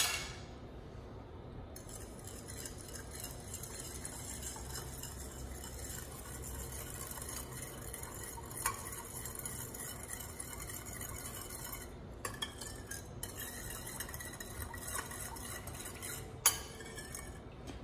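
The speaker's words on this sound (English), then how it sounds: "We're going to mix this together" Spicy cucumber salad dressed with fish sauce is tossed in a bowl, giving quiet, continuous scraping and wet stirring with occasional light clinks of a utensil against the dish.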